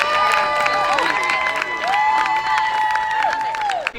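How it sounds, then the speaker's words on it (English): An outdoor Juneteenth community gathering in Hyde Park breaks into applause, with scattered cheering and shouts over a mix of clapping that holds steady for a few seconds. "Big round of applause."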